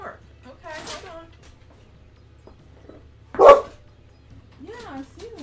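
A pet dog barks at a mail delivery, letting out a few sharp, separated barks and yips over a low household hum, with a person speaking between them.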